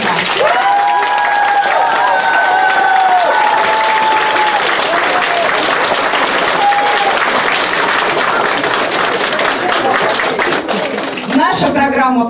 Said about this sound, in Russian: Давайте проводим участников концерта еще раз бурными аплодисментами.